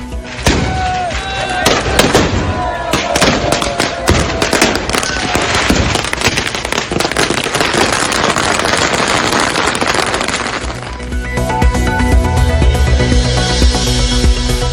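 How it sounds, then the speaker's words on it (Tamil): Dense, loud bursts of gunpowder firing at the gunpowder Holi festival near Udaipur, Rajasthan, cracking and booming in rapid overlapping volleys before easing into a rumbling crowd din. "உதய்பூர் அருகே கன் பவுடர் ஹோலி பண்டிகை கோலாகல கொண்டாட்டம்"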